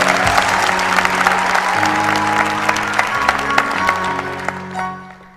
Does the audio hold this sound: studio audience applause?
yes